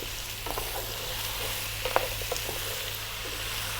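Chopped fresh tomatoes simmering in a pan for a vegetable stew, a soft constant sizzle with a few light spoon taps and stirring clicks, with no talk.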